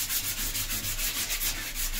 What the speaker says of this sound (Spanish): ¿Te aburres y te coges una lija?